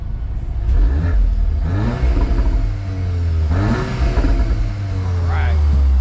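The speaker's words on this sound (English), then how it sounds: "when they're free revving it in whatever mode with the valves open, should be roughly what it sounds like" Audi S3 8Y with a resonator delete revs with its exhaust valves open, rising and falling engine tone in repeated pulls over a steady idle drone, close and loud, with some voices underneath.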